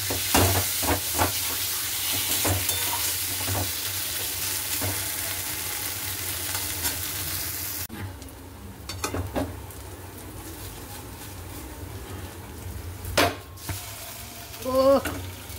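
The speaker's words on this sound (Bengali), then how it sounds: "নুন হলুদ দিয়ে দিয়েছি, কষিয়ে নিই" Food sautéing in a pan with salt and turmeric, a loud sizzle at first that quiets partway through, with repeated scraping stirs and utensil clinks throughout.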